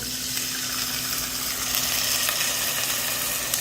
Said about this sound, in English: I'm going to deglaze it with a little wine.